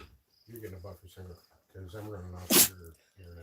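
A single sharp sneeze bursts out during a casual livestream conversation, louder than the surrounding voices, with people talking before and after it.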